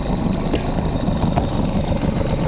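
A small 3–3.5 hp outboard boat motor, warm after running, idles steadily after starting, a loud, continuous mid-pitched engine drone close by with no talk.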